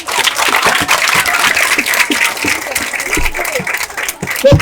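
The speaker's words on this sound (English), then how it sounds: "Can we clap for the Ministry of Education, the Minister and staff?" A crowd claps at a school feeding programme event in Kissi Town, Waterloo, Sierra Leone, a dense, loud, sustained patter of many hands running throughout, with faint voices mixed in.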